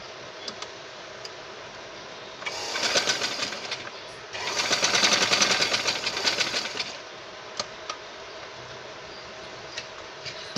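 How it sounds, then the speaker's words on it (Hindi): A sewing machine runs in two sustained bursts while stitching a Katori blouse, the needle's fast mechanical whir rising between quieter ticking pauses, close and steady. "हम स्टिच कर रहे हैं बिल्कुल यहाँ सेंटर में, ताकि कोई सिलाई दिखाई ना दे।"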